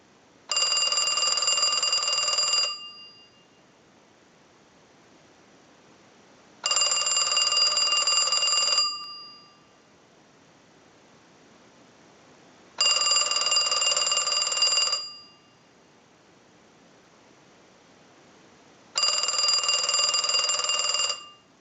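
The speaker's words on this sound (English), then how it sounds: "send a ring cycle like you were getting a call" A Western Electric French style desk telephone bell rings in four long bursts of about two seconds each, separated by roughly four-second silences, loud and close with no talking.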